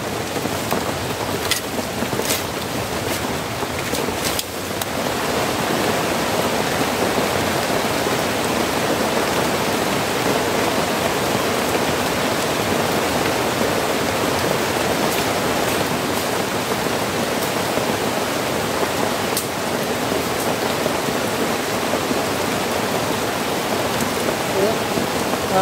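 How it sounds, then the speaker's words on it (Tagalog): Heavy rain pours steadily during a flood, a dense continuous hiss of water with scattered louder drops and no letup. "Umuwi na tayo mga kadiskarte kasi grabe na yung ulan. Sobrang lakas na."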